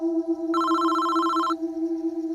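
A steady electronic tone with a brighter one-second ring burst over it, clear and close, like a phone ringing.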